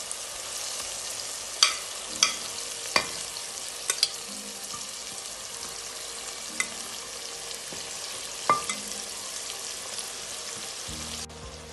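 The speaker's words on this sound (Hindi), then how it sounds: "मसाले को अच्छे से भून लिया मैं इसमें ऐड कर रही हूँ सीख कबाब" Seekh kababs go into well-roasted masala in a pan and sizzle steadily at close range, with a few sharp clicks and clatters of stirring. No one speaks.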